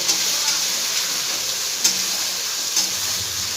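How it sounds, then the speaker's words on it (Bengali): Spice paste (masala) frying in a pan for jackfruit kofta, a steady broad hiss and sizzle with a few faint stirring clicks, close and even throughout. "2 থেকে 3 মিনিট আমি মশলাটাকে আগে ভেজে নেব"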